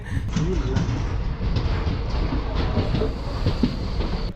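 A passenger train on a Chennai to Palani route rumbles steadily along the tracks with a continuous low roar and faint rhythmic clatter of wheels, close and loud throughout.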